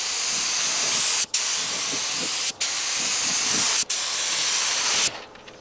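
Paint sprayer laying a coat of pearl paint onto a skoolie school bus, a loud continuous hiss of atomized spray broken by three brief trigger releases before stopping near the end.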